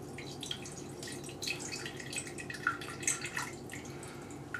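Lukewarm water poured into a Thermomix TM5 bowl for garlic bread dough, a soft irregular trickle and splashing that stays fairly quiet and close throughout.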